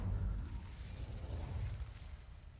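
A fire spell cast in the Hogwarts Legacy video game gives off a low, rumbling burst of flame that roars steadily for a couple of seconds at a fairly soft level.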